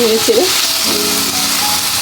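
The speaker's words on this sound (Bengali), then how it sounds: "আস্তে করে ভেজে নেব দেখো আলুগুলো প্রায় ভাজা হয়ে আসছে" Potatoes frying slowly in oil with a little turmeric and salt: a steady close sizzle runs throughout, with a brief tonal scrape or clink near the start and a faint hum in the background.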